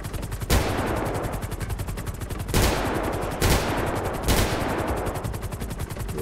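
Rapid automatic gunfire in the video game GTA 5 during roleplay, a continuous rattling burst punctuated by several louder single shots, dense and close throughout.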